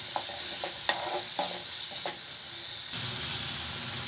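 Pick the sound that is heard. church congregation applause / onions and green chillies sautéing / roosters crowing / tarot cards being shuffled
onions and green chillies sautéing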